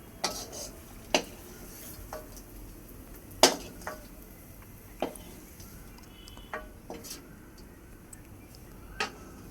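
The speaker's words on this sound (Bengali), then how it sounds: "এবার আমি গ্যাসটা বন্ধ করে দেব, শাকটা আমি ঢেলে নেব" Cooked leafy greens stirred and scraped in a pan, then poured out: scattered sharp utensil clicks and metal taps over a low sizzle, close and moderately loud, no voices.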